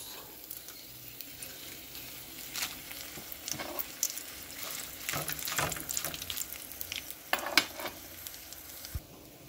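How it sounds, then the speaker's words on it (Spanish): Steady sizzling and crackling of chili peppers frying in hot oil, with bursts of louder spitting as they are stirred around the pan. "Vamos a agregar los chiles para dorarlos."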